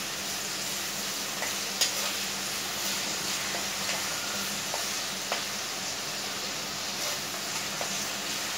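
Onion with salt fries in a pan for an Aagri crab curry. A close, steady sizzle continues throughout, with occasional light taps and scrapes of a spoon stirring.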